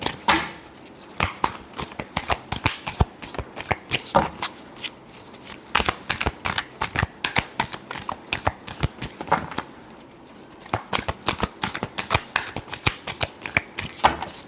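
Tarot cards being shuffled by hand for a reading, with repeated bursts of crisp riffling and slapping that come in close, steady flurries over a quiet background, pausing briefly in between.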